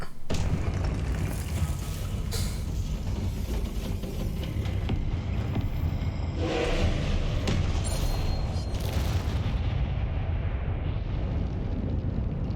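Confringo explosive spell blasts during a Hogwarts Legacy boss fight, a loud, continuous barrage of booming rumbles and bursts layered over one another with no pause.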